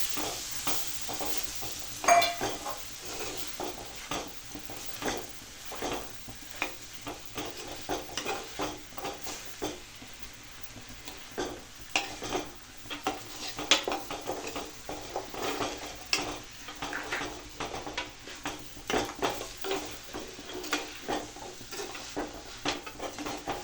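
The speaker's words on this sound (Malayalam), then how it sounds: "ഒന്നുകൂടി നമ്മൾ മുതിരയിട്ട് ഒന്ന് വഴറ്റുക" Cooked horse gram is stir-fried in a pan for a Kerala curry with ash gourd, with a constant soft sizzle under repeated close scraping strokes of a spoon against the pan and no talking.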